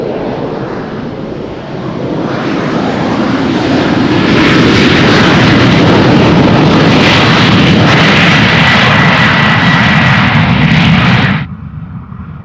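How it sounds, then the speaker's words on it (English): A small KLM Embraer jet takes off from Amsterdam Schiphol on a showery day, its engine roar swelling into a loud, broad, sustained rush with wind buffeting, then cutting off abruptly near the end. "we are seeing a little Embraer from KLM that will take off first"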